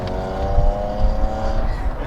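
A Mercedes W220 with a V12 engine accelerating, a loud, steady, deep engine roar close up that holds strong throughout the short burst.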